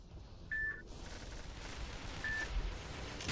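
Two short, clear electronic beeps from a machine in the video game Tribes sound a couple of seconds apart over a dense wash of game noise and distant gunfire.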